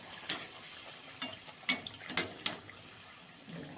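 Puris deep-frying in hot oil, with soft crackling and a few sharp splashy pops and stirring clatters scattered over a low bubbling background, moderately close.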